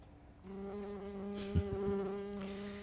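Close, steady drone of a buzzing bee with a sustained tonal hum that swells in and holds, alongside a few faint soft taps, alone with no talk.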